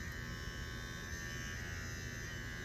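A Wahl Disruptour electric hair clipper runs steadily up close with a constant buzzing hum, its pitch shifting slightly partway through, with no voices over it.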